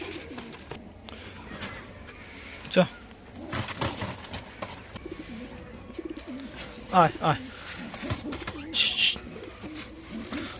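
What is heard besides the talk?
pigeons cooing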